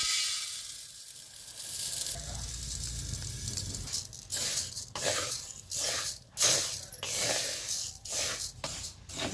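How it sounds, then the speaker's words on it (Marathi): Mung beans dry-roasting in a hot kadai, a steady soft sizzle and hiss with repeated scraping strokes of a spatula against the pan, close and fairly quiet with no talk. "कढई गरम झाल्या, मूग भाजून घेऊया."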